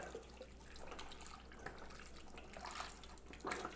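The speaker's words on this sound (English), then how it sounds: "now you're going to take your broth and you're just going to barely cover it" Broth is poured over beef shanks in a kitchen pot to barely cover them, a continuous liquid splashing and trickling with small bubbling spikes, moderately close and without talk.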